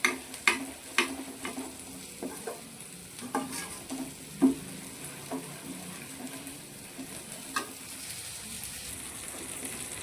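Masala for a sardine (mathi) fish fry is stirred in a hot pan, with a spoon scraping in irregular strokes over a soft, low sizzle of oil. The scrapes come through sharp and close.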